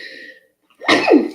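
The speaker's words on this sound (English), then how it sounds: "I feel like I'm about to sneeze" A single close, loud sneeze bursts out after a brief pause, following a moment of a voice in an indoor setting.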